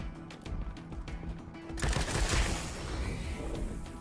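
Rapid bursts of turret gunfire in Wasteland 3, a dense rattling barrage that swells loud partway through after a quieter stretch of light clicks and thumps.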